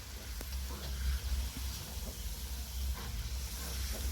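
Spice paste fries in a pan as a faint, steady hiss over a low background rumble, continuous and without distinct strokes.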